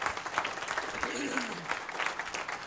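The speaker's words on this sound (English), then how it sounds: "let's give another applause to Dr." Audience applause fills a room after a business forum talk honoring Bernie Jaworski, a dense steady clapping across the whole stretch with a faint voice gliding underneath partway through.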